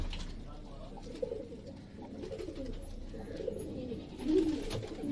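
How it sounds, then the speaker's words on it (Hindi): Golden pigeons at a breeding setup give soft, low, rolling coos, repeating steadily at close range over a faint bed of background noise, with a slightly louder burst of cooing near the end. "बहुत ही नया कबूतर है गोल्डन"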